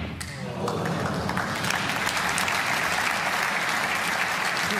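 A snooker crowd bursts into loud, sustained applause after a century break, thick clapping that swells quickly and holds steady throughout.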